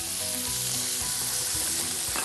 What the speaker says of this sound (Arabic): نقلي فيهم الفليفله الحلوه، نقلي فيهم البندوره